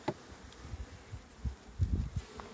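Honeybees from an overflowing swarm buzz close by near a hive during a spring colony transfer, a soft continuous hum broken by a few louder passes of bees flying near.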